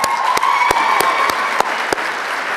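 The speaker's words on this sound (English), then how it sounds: "I want to give a huge, huge round of applause to all my sisters at this conference." Loud, sustained audience applause at a poetry night conference, a dense wash of clapping with a few sharp individual claps standing out near the front.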